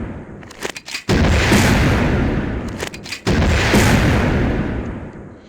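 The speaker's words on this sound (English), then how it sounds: "And the rocket launcher." Rocket launcher firing in Soldier of Fortune II Unreal Edition: a first loud, roaring blast that sustains for about two seconds, then a brief gap and a second blast, rumbling on and fading slowly, with no voices.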